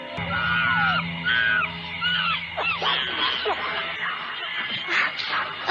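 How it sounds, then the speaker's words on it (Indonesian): Eerie shrieking calls of monkeys used as a sound effect in a horror radio drama, rising and falling howls in bursts over a low hum, then a more chaotic jumble of cries. "Suara itu sepertinya suara monyet berteriak-teriak."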